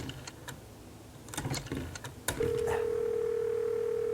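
A very old telephone connecting a call: scattered clicks and ticks of the line, then a steady, continuous dial or ringback tone settles in and holds to the end, fairly loud and alone.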